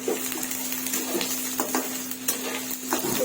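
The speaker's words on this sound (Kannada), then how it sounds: "ಇದು ಸಣ್ಣ ಸಣ್ಣದಾಗಿ ತುರ್ಕೊಂಡಿರುವಂತಹ ಬೆಳ್ಳುಳ್ಳಿ ಮತ್ತೆ ಶುಂಠಿ ಇದನ್ನ ಹಾಕ್ತಾ ಇದ್ದಾರೆ. ಅದು ಚೆನ್ನಾಗಿ ಸ್ವಲ್ಪ ಬಣ್ಣ ಬದಲಾಗೋವರೆಗೂ ಫ್ರೈ ಮಾಡ್ಕೋಬೇಕು." Grated garlic and ginger fry in a pan for egg fried rice, giving a steady close sizzle with soft scraping and stirring clicks from a utensil, and no talking.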